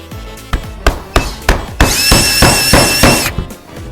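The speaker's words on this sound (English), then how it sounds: "So, get your nail started, and anything can be a hammer," A series of sharp, evenly spaced knocks as a drill is used as a hammer to drive a nail, about eight strikes in quick rhythm, with a brief high whine from the tool partway through.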